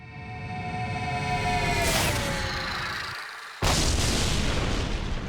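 A weapon fires blank rounds at a target on a television series film set, with a sustained booming burst carrying for several seconds, then a sharp cut to a louder, denser stretch of noise.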